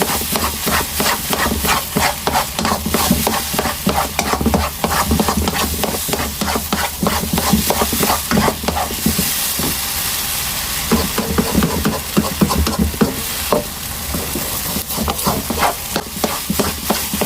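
A spoon stirs dates halwa as it cooks in ghee, scraping the pan again and again in an uneven rhythm over a continuous close sizzle and fry, loud and with no talking.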